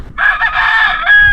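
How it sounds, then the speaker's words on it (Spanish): A rooster crows once, loud and close, a single drawn-out cock-a-doodle-doo standing clear against faint background noise. "Hay un gallo."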